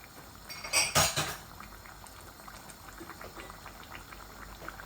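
A pot of potato and tomato curry with hot water added bubbles and simmers softly, with a short burst of metal utensil clatter against the pot near the start.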